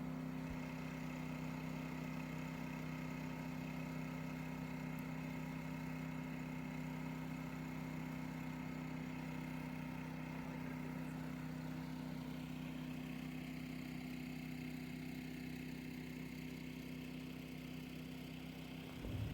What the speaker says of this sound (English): Running the generator for an hour is enough for us to recharge our battery banks and the electric tools